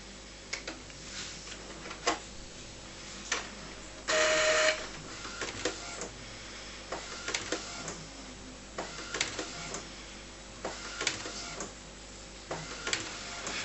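An Epson R285 inkjet printer fitted with a CISS ink system prints, giving repeated mechanical ticks and clicks, brief whirring carriage runs and a short buzzing feed burst, close and fairly quiet with no talking.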